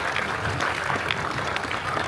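Audience applause at a DC Next Level panel at San Diego Comic-Con: a dense, steady wash of many hands clapping together, fairly soft and continuous throughout the short stretch with no speech over it.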